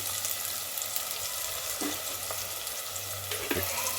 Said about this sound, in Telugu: ఉల్లిగడ్డ ముక్కలు, టమాటా ముక్కలు మంచిగా నూనెలో గోలాలి